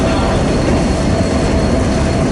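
Westbound freight train 15M roars past on the Fort Wayne Line, a loud, steady rumble of rolling wheels and railcars heard up close and unbroken.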